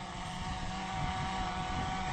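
A DJI Phantom 3 Advanced quadcopter flies into a headwind outdoors over a field, its steady, fairly loud propeller whine and motor drone blending with broadband wind rush on the microphone throughout.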